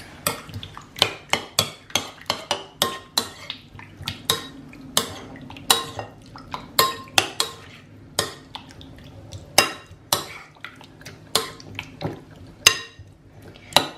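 A spoon mixes prawn cocktail sauce with lemon juice in a bowl, giving a long run of close, sharp clinks and scrapes in an uneven rhythm with no talking.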